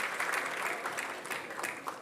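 Spectators at a 10m air rifle men's World Cup shooting event in Bhopal, India, applaud in a steady, moderately loud wash of clapping with a few sharper individual claps standing out.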